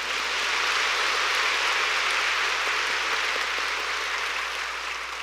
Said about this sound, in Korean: 우리 하나님께 한번 박수하십시다.